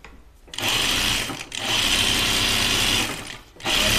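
A sewing machine stitches front seams on yarn-dyed fabric in three close, loud, continuous runs broken by brief stops, with no voices.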